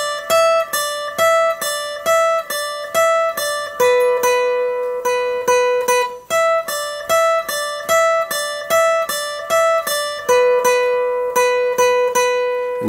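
Solo acoustic guitar slowly plays the first line of a song's solo, with clear single picked notes in a steady, repeating pattern that rings out close and alone.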